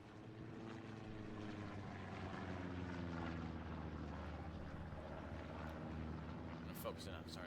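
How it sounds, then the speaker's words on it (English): A recon plane flies over in a tank video game, its steady propeller drone holding throughout under continuous game noise and commentary. "508P recon plane going out now."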